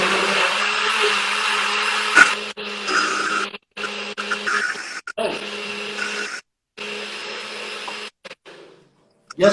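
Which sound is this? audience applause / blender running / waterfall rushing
blender running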